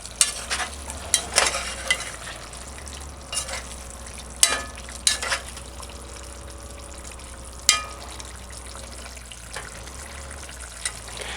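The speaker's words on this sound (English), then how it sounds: "Stir it gently. You don't want to break it up." Curried tofu is stirred gently in a pot: intermittent scrapes and knocks of a spoon against the pot over a low, steady simmering sizzle.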